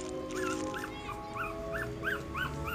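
A dog whimpers and yips in a repeated series of short, high, rising-falling whines over a low steady background hum.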